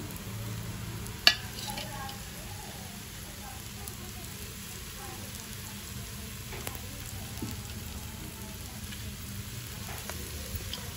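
Onions and garlic fry in a pan for a stir-fry, a steady soft sizzle running throughout with one sharp click early on and faint background noise.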